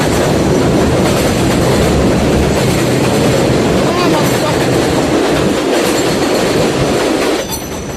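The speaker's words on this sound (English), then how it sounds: "Let me let this train go by." A train rolls past close by, loud and continuous, with steady rumbling and clickety-clack of the wheels and some wheel squeal, fading slightly at the end.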